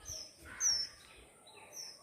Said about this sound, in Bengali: কত পাখি ডাকছে